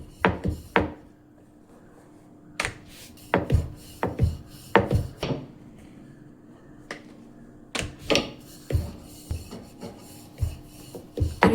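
Chapati dough being rolled thin with a rolling pin on a board, heard as a series of sharp wooden knocks and rubbing strokes in irregular bursts, close and alone.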